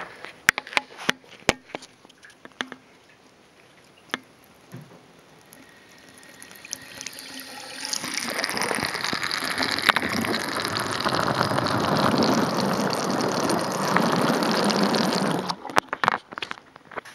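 Water gushing from a tap into a sink, with scattered drips and clicks at first, then a strong steady pour running for several seconds before it stops abruptly, followed by faint drips.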